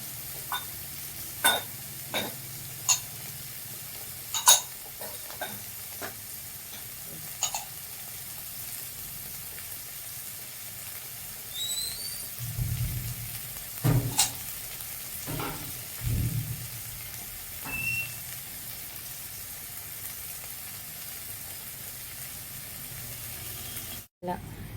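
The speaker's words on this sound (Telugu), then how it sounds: "పక్కన మనకు క్యాప్సికమ్, క్యారెట్ ఫ్రై అవుతుంది నాన్న." Capsicum and carrot fry in a pan in a home kitchen, a soft steady sizzle under scattered clinks and taps of utensils, with faint talking in the background.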